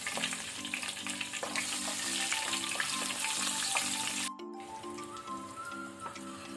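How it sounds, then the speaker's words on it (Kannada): Green chillies and cumin seeds fry in a pan over a medium flame with a loud, continuous crackling sizzle. A steady tonal hum runs beneath it, and after a brief dropout the sizzle carries on with no talking. "2 ಹಸಿಮೆಣಸು, ಗ್ರೀನ್ ಚಿಲ್ಲಿ, ಇದನ್ನು ಸ್ವಲ್ಪ ಫ್ರೈ ಮಾಡ್ಕೊಳ್ಳುವ"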